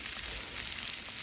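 Steady, soft sizzling of onions and chorizo frying and caramelising in a pan on a wok ring, a continuous crackling hiss with no talking.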